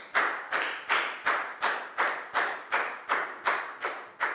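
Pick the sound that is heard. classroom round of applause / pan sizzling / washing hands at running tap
classroom round of applause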